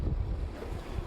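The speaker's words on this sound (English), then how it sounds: "Oh my gosh, it is windy." Strong Arctic wind at Isfjord Radio, Svalbard, roars and buffets the microphone in a continuous low rumble, loud and close throughout the short moment.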